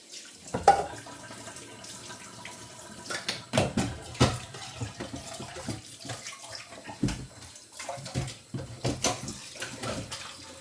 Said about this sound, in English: You want to let your pot soak in hot water.